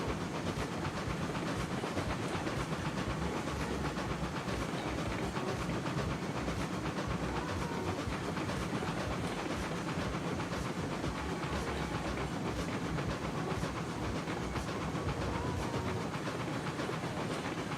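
The steam locomotive Mosca in the game RAILROADS Online strains under load, giving a continuous dense rumble and hissing roar that runs steadily throughout without pause.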